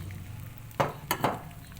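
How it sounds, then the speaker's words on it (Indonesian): An egg fries in a pan like an omelette over low to medium heat, a soft steady sizzle with a few sharp clinks of a utensil against the pan, close and without talk. "Kemudian kita goreng telurnya seperti menggoreng telur biasa ya, dadar gitu."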